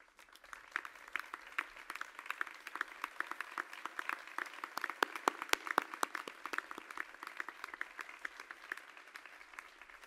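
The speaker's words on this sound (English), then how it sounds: "May I ask that the legends in the audience rise so that we may give you a round of applause" An audience at the grand opening ceremony of a Disney archives exhibition applauds Disney legends, a fairly faint, distant patter of many separate claps that carries on evenly throughout.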